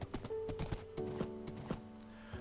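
Horse hooves clip-clop in a Minecraft-style video game as a horse is pushed through a nether portal, a fast irregular run of sharp knocks over faint background music, with no talking.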